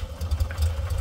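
Zastava 750 (Fića) engine idling close by, a low uneven putter with a steady rhythmic chug throughout the brief moment.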